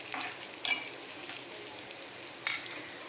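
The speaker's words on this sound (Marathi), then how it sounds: "मिरची पण आपल्याला थोडंसं परतून घ्यायचं आहे." Green chillies and garlic frying in oil in a small pan, giving a steady close sizzle with two brief louder bursts of crackle as the pan is stirred.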